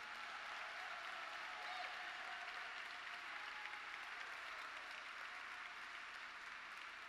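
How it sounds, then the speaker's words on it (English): Sustained applause for a board of directors at the Gloria Awards 2019, an even wash of many hands clapping in a large room, steady and moderately distant for several seconds without pause. "everybody give them a round of applause and a thank you for their leadership"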